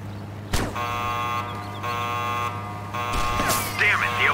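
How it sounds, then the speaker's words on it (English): An alarm sounding in the video game Sniper: Ghost Warrior, Second Strike DLC, a steady buzzing electronic tone that holds throughout with brief breaks, loud and close over game ambience. "Damn it, the alarm!"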